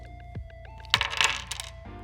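Plastic board game dice for Gatekeeper are gathered and moved aside, making a few close clattering knocks and a short rattling tumble against the table.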